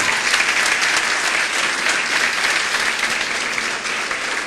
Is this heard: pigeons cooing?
no